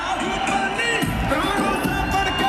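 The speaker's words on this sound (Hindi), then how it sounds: "शोर हो जाना चाहिए, शोर कम नहीं होना चाहिए" A crowd cheers, whoops and shouts at a corporate wellness event, loud and dense, over amplified music with voices mixed in.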